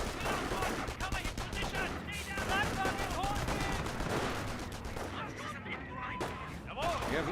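Gunfire rings out in the World War II strategy game Company of Heroes, where US and Wehrmacht snipers duel. The shots, explosions and battle noise stay loud and dense throughout, with a commentator's voice and other sounds mixed in.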